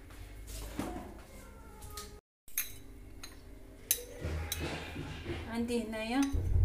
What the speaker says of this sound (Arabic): ديروا هنا القديد في الطنجره في البرمه